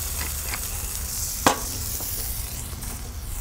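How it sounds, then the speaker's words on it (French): Lobster coral being stirred with a little salt on a hot plancha, a steady close sizzle and scraping with one sharp clack partway through, no talking. "Maintenant, je vais le mélanger avec un petit peu de sel"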